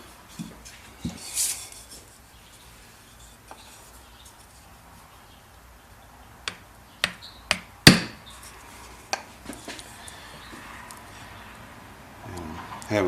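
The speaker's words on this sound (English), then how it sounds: "So I'm going to go ahead and try and tap this in now." Light metallic taps on a snug part being fitted into a Ruger American rifle, a scattered handful of sharp clicks over a quiet room, clustered mid-clip with a shuffle of handling near the end.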